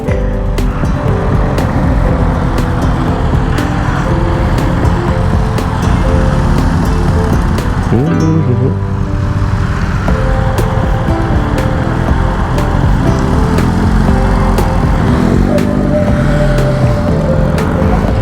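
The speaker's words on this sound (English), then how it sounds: "A lot of traffic here" Dense road traffic surrounds a rider on a BMW CE 04 electric scooter, a loud, steady wash of engine rumble and tire roar running unbroken throughout with no talking.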